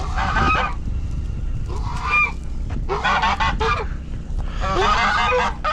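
Geese honk loudly and close by while eating watermelon on a farm, several harsh honking bursts in quick succession with short gaps, over steady background noise.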